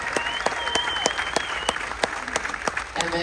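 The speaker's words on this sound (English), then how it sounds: "Give a round of applause for our merchant marines" Crowd applause at a military tribute aboard the Carnival Dream cruise ship, a sustained wash of clapping with several sharp individual claps standing out, fairly close.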